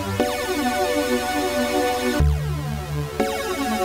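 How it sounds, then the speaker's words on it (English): Retro square-wave synth with three slightly detuned voices pitched up an octave plays sustained buzzy chords that shift at a few points, steady and loud with no talking. "Let's add 3 voices and make it a square wave."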